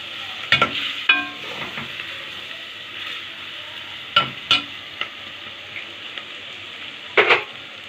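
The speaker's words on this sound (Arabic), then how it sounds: "وهنقلب برضو اللحمه بالبصله مع بعض." Meat and onions fry in a pan with a soft background sizzle, broken by a few sharp scraping stirs and spoon clacks at irregular intervals; close and without talk.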